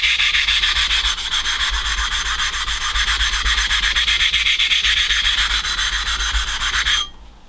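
Edge of a straight-razor honing stone being rounded off, a loud, close, continuous rapid abrasive rubbing that runs steadily for seven seconds and then stops abruptly.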